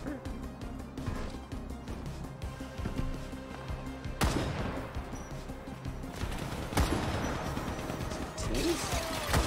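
Sniper gunshots in the shooter game Hypercharged Unboxed: two sharp, loud cracks cut through busy in-game clatter and background noise, with a player talking around them.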